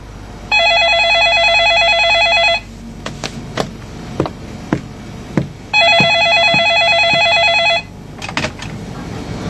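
Two bursts of an old-style telephone bell ringing, each about two seconds long, separated by a pause filled with clicks and knocks of movement nearby.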